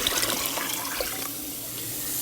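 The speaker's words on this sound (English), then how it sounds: "Now fill up your Instapot." Water runs steadily from a tap into an Instant Pot for cooking charro beans, a continuous close rushing splash with no voices.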